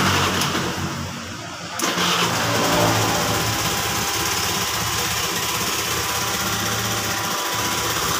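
A Honda Vario scooter engine with a faulty starter switch catches and runs, its starter dynamo still spinning, giving a steady, loud, buzzing idle close by that keeps going without a break.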